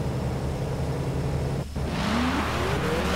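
Chevrolet Corvette C7 Z06 engine in a Forza Horizon 3 street race, a steady loud drone with a rising rev sweep after a brief gap, close and continuous.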